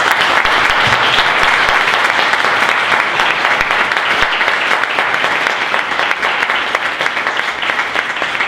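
An audience at a Coastside County Water District candidates' debate applauds, loud, dense and sustained clapping that fills the room evenly for several seconds.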